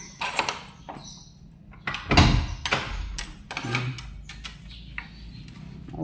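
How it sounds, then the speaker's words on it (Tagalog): A door being opened close by: a run of clunks, rattles and a loud thud from the latch and frame, with a few quieter knocks after. "Open na natin ang pinto."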